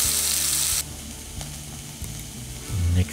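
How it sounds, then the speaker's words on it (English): Peppers sauteing in about two tablespoons of oil in a pan over medium heat, a steady loud sizzle that drops in level partway, with light scraping and stirring knocks and a louder burst near the end. "Add the peppers and saute for about 5 minutes."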